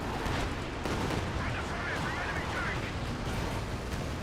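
Panzerwerfer rocket barrage in Company of Heroes 2, a steady dense rumble of launches and explosions mixed with other battle noise and talk, continuous and loud for several seconds.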